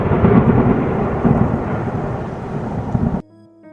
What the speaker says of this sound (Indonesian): Di saat kilatan petir menyambar